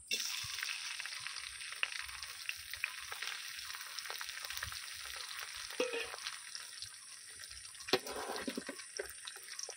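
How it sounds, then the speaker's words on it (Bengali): Prawns frying in hot mustard oil, a continuous close hiss and crackle of sizzling with occasional sharper pops, no voices. "মাছগুলোকে ভালো করে ভেজে নেব।"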